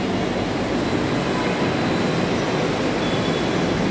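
A Kolkata Yellow Line metro train pulls out from Noapara station toward Dakshineswar, a loud, continuous rumble and roar that fills the platform throughout.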